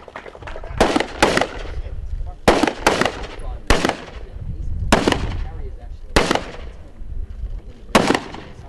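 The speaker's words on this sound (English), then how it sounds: "participated in a live weapon exercise" Loud gunfire from a live weapons exercise with the Jamaica Defence Force, heard as sharp shots in short clustered bursts separated by brief pauses, close and prominent throughout.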